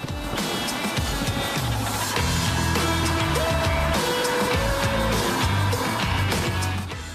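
A DS3 Racing car with a 152-kilowatt 1.6-liter engine drives fast. Its engine holds a loud, steady roar with rising and falling pitch as it revs, close and alone without talk.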